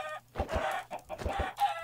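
Chickens cluck and squawk in the Minecraft video game, several short bursts of game hen sounds in quick succession, fairly close and clear with no talking.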